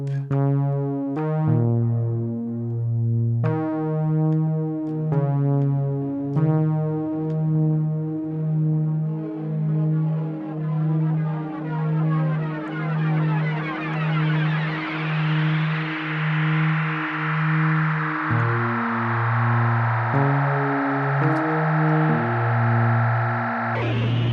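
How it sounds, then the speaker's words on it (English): Synth notes from a Cherry Audio Yellow Jacket software synthesizer run through a tape echo effect, a sequence of sustained tones with repeating echoes that swell into a dense, swirling wash midway before clear notes return. "That's kind of my test on if a tape echo works well."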